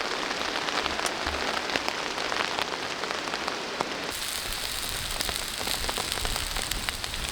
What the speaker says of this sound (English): Starting to rain a little bit now.